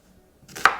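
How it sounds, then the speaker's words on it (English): Two onions are roughly cut into chunks for a leftover turkey curry, and a single sharp knife chop lands on the board after near silence. "So I'm just chopping roughly, just putting in chunks of 2 onions."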